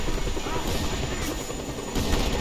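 A helicopter in a video game whirs steadily while bursts of gunfire crackle around it. The mix is dense and continuous, moderately loud, with no clear speech.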